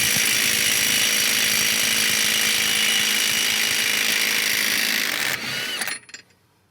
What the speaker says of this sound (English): we might as well go ahead and remove our 32mm CV axle nut